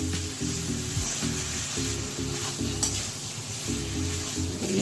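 Posto paste frying in a pan for chichinga aloo posto with snake gourd and potato, a continuous close sizzle with steady scraping stir strokes and a low hum underneath, no voices.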